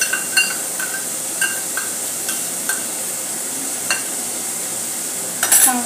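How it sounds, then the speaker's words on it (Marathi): Chopped onion, garlic and green chili fry in a pan with a steady background sizzle, broken by scattered metallic clinks and scrapes of a spoon stirring against the pan. "आता यामध्ये कांदा, लसूण, हिरवी मिरचीच्या आपण चॉप करून घेतलेली आहे ती घालून घेऊया।"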